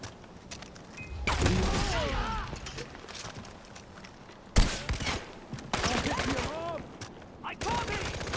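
Gunfire erupts in Far Cry 4 as bursts of automatic shots and blasts in rough, uneven volleys, loud and close, with a sharp boom midway and in-game voices shouting over the fighting.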